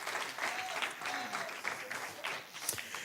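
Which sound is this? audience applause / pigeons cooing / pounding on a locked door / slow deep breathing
audience applause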